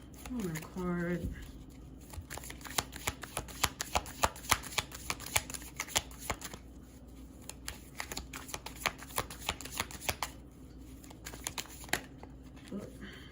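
A deck of tarot cards being shuffled by hand, a long run of quick crisp riffling snaps and flutters, close and fairly quiet, after a brief voice at the start.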